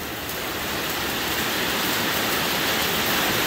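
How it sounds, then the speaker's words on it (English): Heavy rain pours down steadily outdoors, a dense, continuous wash of falling water with big drops, loud and constant for the whole stretch with no talk over it. "Yeah, that rain's coming down."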